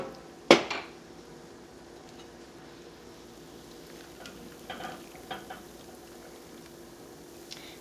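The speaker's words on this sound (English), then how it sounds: "All right, soak that pan." A cooking pan is handled in a home kitchen and set to soak: one sharp metallic clank up close, then a few lighter clatters and knocks of cookware spread over the following seconds, with no talking.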